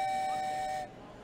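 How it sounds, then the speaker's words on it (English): A train whistle sound effect, one sustained high steam-whistle tone held for under a second before cutting off into quiet room noise. "It's my new train whistle"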